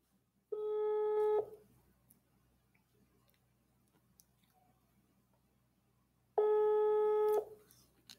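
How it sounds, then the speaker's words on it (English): A telephone rings twice, each ring about a second of steady electronic tone, separated by a long quiet gap and heard clearly and fairly close. "Answer phone."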